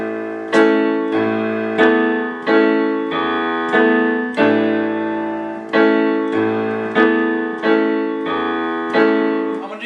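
A piano plays a song with both hands together, steady struck chords with a low bass note beneath each in an even, repeating rhythm, clear and up close.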